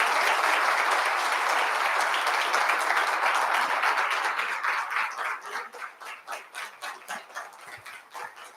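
A large audience applauds after a speech on India's Viksit Bharat 2047 goals, a dense, sustained roar of clapping that thins out toward the end into scattered, separate claps.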